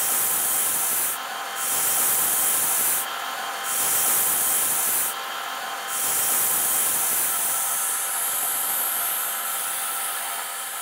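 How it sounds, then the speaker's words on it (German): Brass French horn tubes are sanded by hand in a workshop, the abrasive rubbing loud and close, running in long strokes with a few brief pauses between them. "Alle Rohre werden noch einmal per Hand nachgeschliffen."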